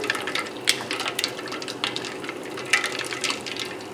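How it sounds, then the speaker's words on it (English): Liquid splashes and trickles into a bullet blender, with irregular sloshing and small clinks, close by. "I'm going to pour this, and it looks like there's plenty of liquid there, into the bullet."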